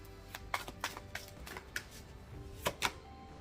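Tarot cards being shuffled by hand, a faint, close series of sharp irregular snaps and riffles spread over a few seconds against a quiet room.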